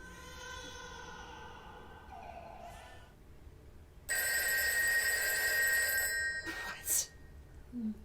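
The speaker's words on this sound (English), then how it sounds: "I thought there was a phone ringing." A telephone bell rings in a television drama, loud trilling bursts that start abruptly midway and stop, following quieter tonal sound and brief voices.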